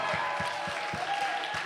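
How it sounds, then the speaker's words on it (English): Steady applause from a crowd at a sangeet celebration, with faint rhythmic low thumps beneath the clapping, continuous and fairly distant. "So let's give them another round of applause."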